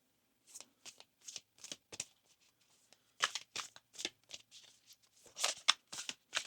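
A deck of oracle cards is shuffled by hand in a quiet room, a series of short, crisp riffling bursts in an uneven rhythm with brief pauses between them.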